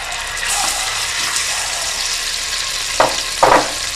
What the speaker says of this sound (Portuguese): Vou colocar o óleo, o alho triturado